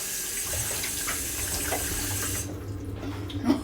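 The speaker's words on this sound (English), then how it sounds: "And I'm just going to rinse my hand." Water running from a kitchen tap as a hand is rinsed after cooking a sweet potato and spinach curry, a steady close splashing stream that thins out near the end, with no voices.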